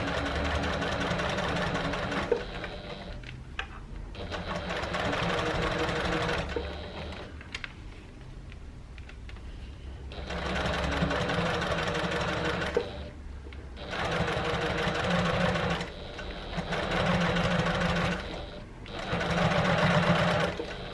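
A sewing machine top stitches a tote bag in several long, steady runs of rapid mechanical whirring, broken by short pauses between bursts, loud and close.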